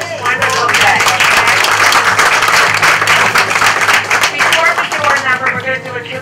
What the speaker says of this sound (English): let's give Hillsborough Township a great round of applause for this wonderful day.